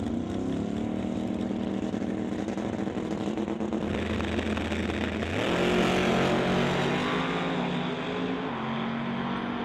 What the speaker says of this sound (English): you'll hear him build up the boost in the Mustang